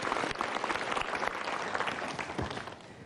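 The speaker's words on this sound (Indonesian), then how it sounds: "Good, super, kita berikan tepuk tangan." Audience applause at a Mario Teguh Golden Ways talk show, steady dense clapping throughout, fairly close and full, with a brief low thump near the end.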